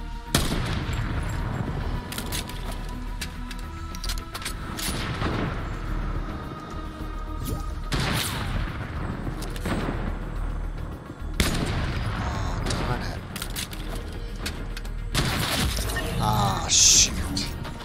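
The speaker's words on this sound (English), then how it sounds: "Wow, shots are just flying everywhere." Scattered gunfire crackles through a Fortnite match, with several sharp reports and bursts spread across the stretch under ongoing talk and game noise, some shots near and loud, others farther off.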